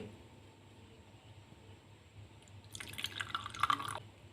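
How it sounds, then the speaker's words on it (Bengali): Warm milk poured slowly into a clay pot holding sour curd, a soft trickling splash that starts midway and builds briefly before tapering off, with a faint steady hum beneath. "সেই উষম গরম দুধটা ঢেলে দেবো এখন আস্তে আস্তে এর মধ্যে"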